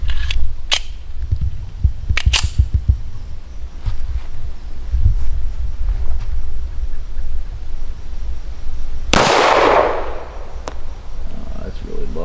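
A World War II Army issue Colt 1911 pistol fires at a target, giving a few sharp, loud reports early on and one strong, close bang near the end, with quieter handling noise between.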